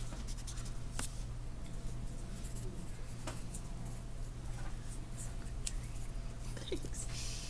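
A pencil sketches a small tree on paper in a one-point perspective drawing, producing soft scratchy strokes and a few taps over a low steady background hum, close up and quiet.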